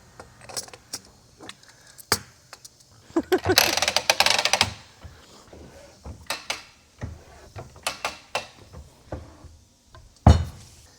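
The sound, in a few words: pressing a bearing onto a differential pinion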